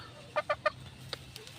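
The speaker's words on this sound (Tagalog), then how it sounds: "Yun ang nanay ng sisiw." A mother hen gives three quick, soft clucks in a row, followed by a couple of faint chick chirps nearby.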